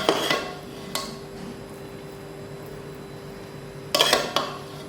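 Cooked Bombay biryani scooped out of a pot with a metal spoon, a few clinks and scrapes near the start, around one second and again near four seconds, over a quiet steady background hum.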